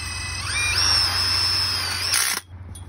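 A power drill whines as it drives a self-tapping screw into the metal sleeves of a 10x20 light-deprivation carport frame. One close, loud burst rises in pitch, holds for about two seconds, then cuts off abruptly, with no speech.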